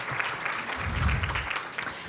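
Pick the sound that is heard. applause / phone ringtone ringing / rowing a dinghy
applause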